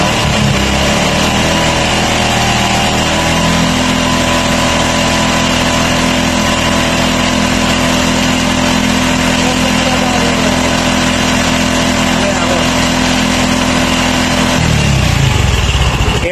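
A Honda Wave 110 motorcycle with a new full-wave charging conversion idles steadily and loudly up close, its low, even engine drone holding for most of the stretch before dropping away near the end.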